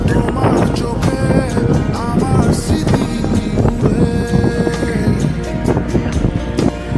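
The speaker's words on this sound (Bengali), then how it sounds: "বাতাসের কারণে কথা" Steady, loud wind buffeting outdoors beside a main road, roaring continuously with a dense mix of background noise throughout.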